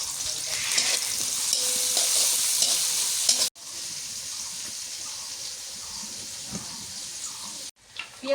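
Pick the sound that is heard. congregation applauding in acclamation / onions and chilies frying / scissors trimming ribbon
onions and chilies frying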